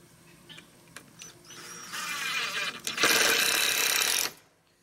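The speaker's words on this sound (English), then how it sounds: "So this is bowed a little bit here, so I'm going to put screws in the ends first." A power drill drives screws into the ends of a slightly bowed homemade recirculating sluice box, a rising whir that builds in two close, loud bursts before cutting off abruptly.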